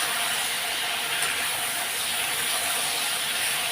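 Water poured into a hot pan of stuck spices and stirred makes a broad, steady steaming hiss at moderate loudness, with no talking.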